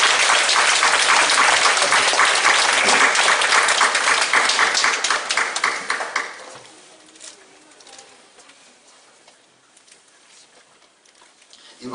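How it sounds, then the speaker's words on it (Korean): A church congregation applauds in loud, dense clapping for about six seconds, then the clapping fades into quieter room sound. "박수합니다"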